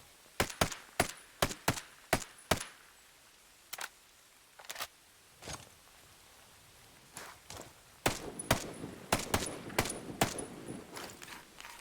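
Gunfire in Ghost Recon Breakpoint: sharp single shots in quick bursts, fairly distant and crisp, with gaps of quieter movement noise between volleys and a denser cluster of shots near the end.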